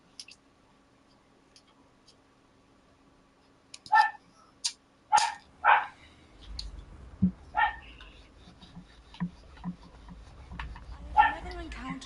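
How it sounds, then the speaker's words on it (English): A dog barking in Hogwarts Legacy gameplay, several sharp barks spaced a second or so apart, moderately near, over a low rumbling background with a faint steady hum. "finally they shut the fucking dog up"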